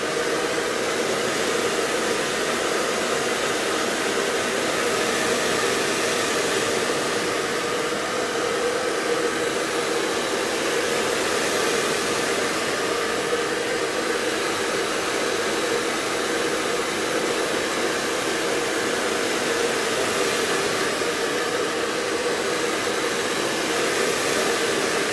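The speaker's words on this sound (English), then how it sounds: "So I will use the dryer to make it dry." A hair dryer blows steadily over varnish on a wooden MDF decoupage tealight holder, giving a continuous loud whooshing roar with no breaks for the whole stretch.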